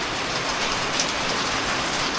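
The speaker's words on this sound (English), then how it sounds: "This would probably be the kind of rain that would get over to here the most." Steady rain falls outside a straw bale home, a dense, even hiss of drops filling the short stretch with no voices.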